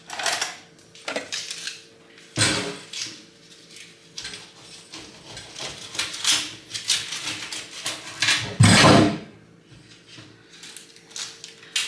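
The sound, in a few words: cutting a lemon with a knife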